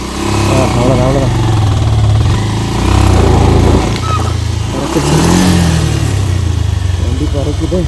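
A motorcycle climbs a steep mountain road toward a hilltop village, its engine revving loud and close with rising and falling pitch as it labours upward. Voices talk over the engine.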